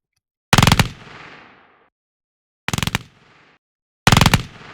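Three distorted, gritty gunshot bursts for an Apex Legends weapon sound, each a loud rapid cluster of cracks with a short rumbling tail, separated by silence.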